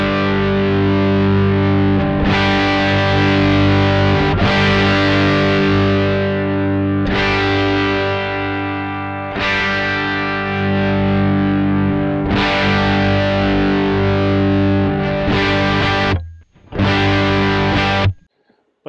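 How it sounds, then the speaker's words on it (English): An electric guitar chord is strummed repeatedly through a Joyo California Sound distortion pedal while its knob is turned, each loud, fuzzy chord ringing for a couple of seconds before the next, with a brief dropout near the end. "I'm just going to kind of play, just kind of strum a chord and turn the knob so you can hear it"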